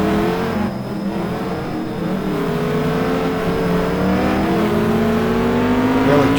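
Race car engines in a GT2 racing game at Indianapolis, loud and close, rising and falling as the cars drift through the corners.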